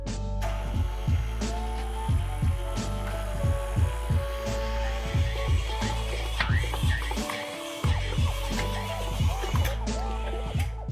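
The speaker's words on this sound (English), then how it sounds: "I'm going to bump it up to about speed 4 in this mixer, and I'm going to give it, say, 6 or 8 minutes" A stand mixer running at speed 4 churns babka bun dough with a steady low motor hum and a rhythmic thumping as the dough slaps around the bowl, close and continuous with no talking.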